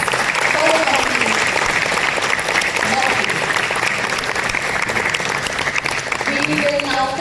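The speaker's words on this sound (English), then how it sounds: "Can we have one round of applause for the company?" Audience applause at an IPO listing ceremony for a company: loud, dense and steady clapping from a sizeable crowd, sustained throughout with a voice briefly audible over it near the start and end.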